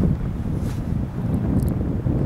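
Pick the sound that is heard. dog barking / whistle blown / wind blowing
wind blowing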